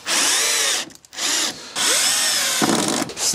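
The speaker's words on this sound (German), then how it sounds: "Ich mache hier drüben nochmal eine Schraube rein." A power drill drives screws into wood while building a small raised garden bed, with a close, loud whirring in three long bursts separated by short pauses.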